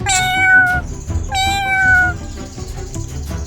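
A cat meows twice, loud and near, each a drawn-out falling call, with a faint third call and some background noise underneath.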